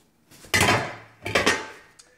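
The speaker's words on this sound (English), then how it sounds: "We're going to put our pot back on the stove." Two heavy metallic clunks, like a pot being set down on a stovetop, close and fairly loud, with a faint clink at the end.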